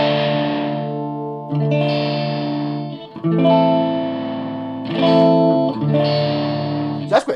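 An electric guitar runs through an Ibanez STT-810 stereo pedal with distortion into an Orange amp, playing five sustained, harmonically rich chords separated by short gaps, loud and close.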